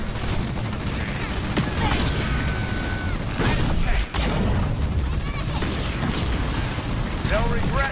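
Dense gunfire and explosions in a Halo Wars 2 battle against the Banished, continuous loud bursts and booms with mechanical clatter, overlapped by voices.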